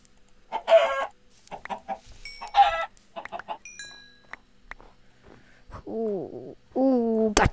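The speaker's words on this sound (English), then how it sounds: "Oh, more chickens." Minecraft chickens cluck in short, loud bursts, alternating with brief spoken remarks and ending with a couple of drawn-out, wavering squawks.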